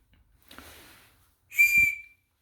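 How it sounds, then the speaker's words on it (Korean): Whistle built into a cheap Chinese-made multitool, blown once in a short, shrill, piercing tone after a soft breathy puff, close and alone with no talking. "그리고 이거는 호루라기."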